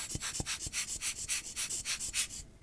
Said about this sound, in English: I am going to just get a dry Q-tip again and just very gently just rub the top of that.